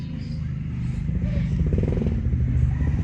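A Honda Click motor scooter engine idles nearby with a steady, throbbing rumble and a light rattle.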